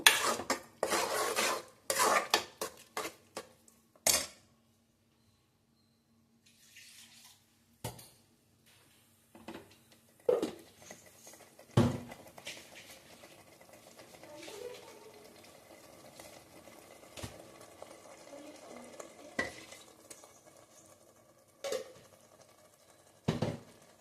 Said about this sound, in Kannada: ಎರಡು ನಿಮಿಷ ಚೆನ್ನಾಗಿ ಫ್ರೈ ಮಾಡಬೇಕು, ಹಸಿ ವಾಸನೆ ಎಲ್ಲ ಹೋಗಬೇಕು